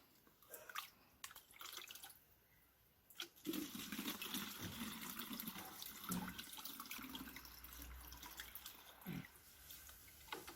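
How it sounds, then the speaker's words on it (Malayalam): Water pours from a tap into a bottle being filled for a bird water feeder, starting as scattered drips and splashes, then settling into a steady, continuous rushing stream with no talking. "നമുക്ക് ഈ കുപ്പിക്കകത്ത് ആദ്യം വെള്ളം നിറയ്ക്കാം"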